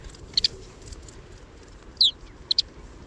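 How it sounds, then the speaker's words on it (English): Recorded flight calls of a grassland bird: three short, thin, high chips, a pair near the start, one in the middle and a pair near the end, sounding over a soft background hiss. "There's some flight calls."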